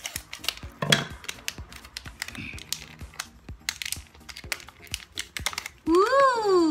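Advent calendar packaging being opened, with a dense run of crisp rustling, tapping and crinkling clicks, then a brief squeaky scraping slide at the end; a voice is faintly present.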